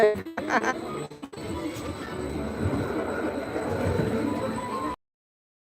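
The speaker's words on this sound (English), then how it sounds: "I'm on a monorail" Steady rumbling of a Disney monorail ride heard from inside the car, a continuous rolling drone with faint rail hum that holds for several seconds before cutting off abruptly.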